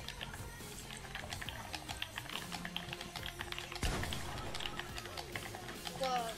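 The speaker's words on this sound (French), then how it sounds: "pour les vidéos, les gens veulent que entendre moins mon clavier" Computer keyboard typing during a Fortnite build fight, with rapid clattering keystrokes running steadily under game sounds and a person talking.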